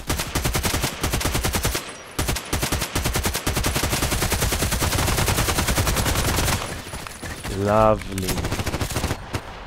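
Sustained automatic fire from an AK-12 assault rifle in the shooter game Contract Wars, long rapid bursts with brief gaps, loud and close, followed by a distinct rising mechanical whir; someone speaks briefly between shots.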